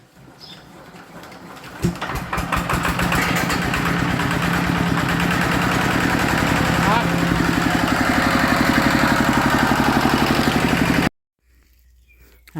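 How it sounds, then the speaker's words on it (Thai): A farm tractor engine runs steadily and loud while pushing soil outdoors, starting with a thump, then a sustained rhythmic chugging drone for about nine seconds before cutting off abruptly, with faint background sound after. "ผมก็เอารถไถดันดินมา"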